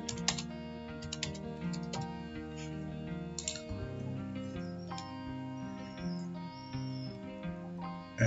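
Computer keyboard typing while adding text labels in Photoshop, a run of quick clicky keystrokes over a soft music bed, close and moderately loud.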